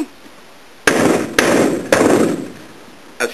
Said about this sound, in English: But here's the claw hammer.